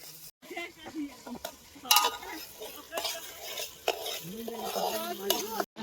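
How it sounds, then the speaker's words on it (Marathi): Tomatoes are tipped onto roasted onion in a cooking pot at an outdoor picnic meal and stirred, giving a scraping, sizzling stir with clinks of the spoon against the pot and faint voices in the background. "आपण आता कांदा भाजून घेतला आहे टॅमॅटो टाकूया"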